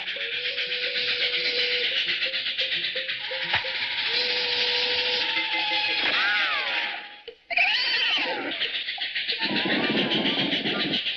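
A steam train chugs along with a constant hissing rush and rhythmic clatter, a whistle-like tone sliding in midway, briefly cutting out before resuming.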